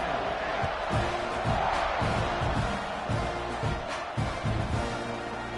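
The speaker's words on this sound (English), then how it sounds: "this crowd is feeling themselves after that last drive" A football stadium crowd at a South Carolina versus Texas A&M game roars and cheers in a broad, sustained wash of noise, with scattered thumps and a commentator talking over it.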